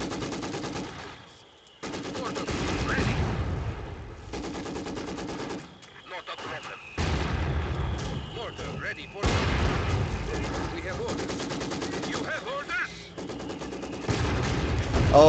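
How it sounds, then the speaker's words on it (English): Company of Heroes 2 battle audio with sustained machine-gun bursts, rattling gunfire and booming mortar barrages, dense and continuous with brief breaks in the noise. "I've got mortar barrages going down on that point now."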